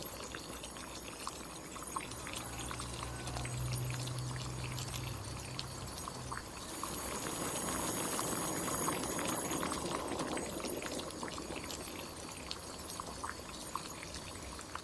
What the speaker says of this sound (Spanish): Los cocinamos en agua hirviendo unos 8 minutos,